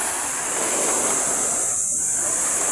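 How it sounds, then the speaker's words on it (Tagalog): Sea waves at a beach in Burgos, Pangasinan, a loud continuous wash of surf and wind noise with no voices. "Ayan, dagat."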